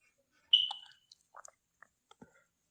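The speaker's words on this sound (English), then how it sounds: "there go that beep noise again." A single short, sharp electronic beep sounds at close range and fades quickly, followed by a few faint scattered clicks and taps.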